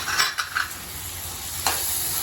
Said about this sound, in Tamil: கொஞ்சம் நல்லா தக்காளி நல்லா மசிஞ்சு வர அளவுக்கு நம்ம வந்து இதை வந்து வதக்கணும்